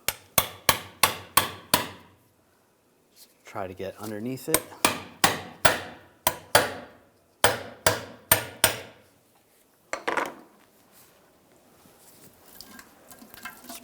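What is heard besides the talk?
hammer tapping pry bar on Ram 1500 backing plate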